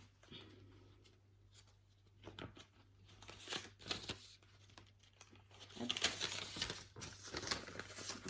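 Paper budget envelopes being filled, with soft rustling, crinkling and tearing-like paper handling that grows busier toward the end, close and quiet.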